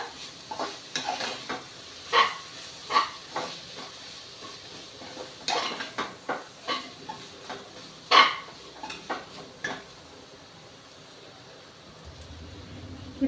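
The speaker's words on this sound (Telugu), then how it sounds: "దీన్ని కొంచెం సేపు వేయించుకోవాలి ఒక ఐదు నిమిషాల పాటు వేయించుకోవాలి" Vegetables for a veg biryani fry in a pan with repeated stirring scrapes and clinks over a soft sizzle, the spatula strokes coming in an uneven rhythm before settling into quieter frying near the end.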